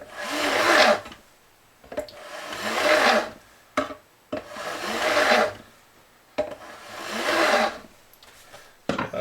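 Rhythmic rasping strokes of a file or sanding block working a Jazz bass maple neck, long scraping passes of about two seconds each with short knocks between, close and loud.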